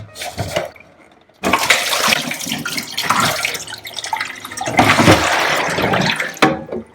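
Water sloshes and gushes loudly in surges as a Brita UltraMax water filter dispenser is flipped over, with brief pauses between pours and a splashy, gurgling rush up close.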